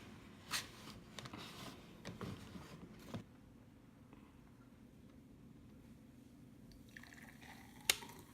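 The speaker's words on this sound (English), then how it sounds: "So I'm gonna take it out and pour it in my cute little cup." Frothy blended keto coffee made with unsalted butter is poured from a blender into a small cup at home, a faint, quiet liquid trickle with a few soft drips and clinks, no talking.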